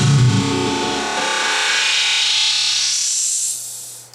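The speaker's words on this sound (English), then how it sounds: "I'll usually use a filter or something on it like this" A filter effect on a Pioneer CDJ-1000MK3 DJ player sweeps loud distorted music upward until it thins to a hiss and fades out over about four seconds.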